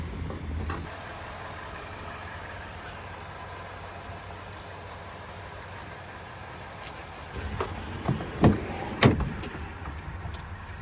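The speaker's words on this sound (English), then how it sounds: "let's start up the truck, turn on the lights, and see if everything works" A Toyota Tundra pickup engine idles at a low, steady level, with a soft rumble under faint background noise and a few sharp clicks or clunks near the end.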